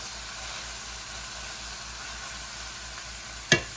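A folded birria queso taco stuffed with Mexican cheese and meat fries in a pan, a soft steady sizzle ending with one sharp utensil clack; no voices.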